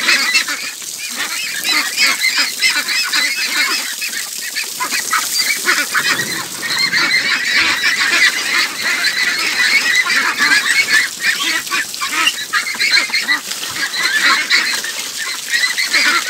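Pekin ducks on a farm splash and bathe while a dense flock keeps up loud, overlapping honking quacks throughout, close by and continuous with no talk.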